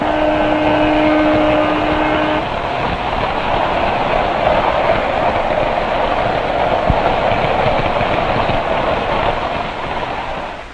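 A postwar Lionel model toy train runs steadily and loudly close by. A continuous rumbling whir of wheels and motor lasts throughout, with a brief tonal hum at the start.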